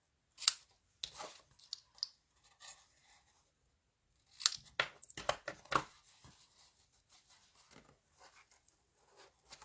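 Scissors cutting decorative paper for making boxes, two bursts of crisp close snips and paper crinkles separated by a quiet gap with no talk.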